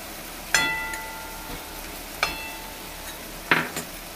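Maggi masala, Malvani masala and red chilli powder are stirred and fried in oil, giving a soft continuous sizzle with three distinct spoon knocks against the pan spaced over a few seconds.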